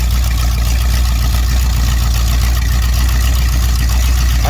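A Dodge street van with a custom side pipe exhaust idles steadily, a loud, constant low rumble close by with no pauses across the whole stretch.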